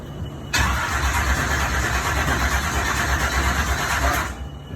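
A blown Chevy truck engine fires up and settles into a loud, rough, steady run of about four seconds before cutting off abruptly.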